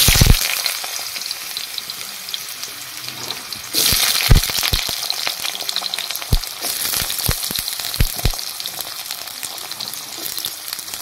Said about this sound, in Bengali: তেলটা গরম হয়ে গেছে, কালো জিরাও হয়ে গেছে। এবার আমি আলুগুলো ছেড়ে দেব।